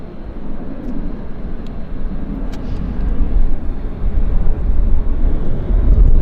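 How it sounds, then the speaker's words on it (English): A WestJet airliner climbs away after takeoff from Vancouver airport, a steady broadband jet roar that swells gradually over several seconds, heard from a distance with no talking. "There's the WestJet climbing majestically."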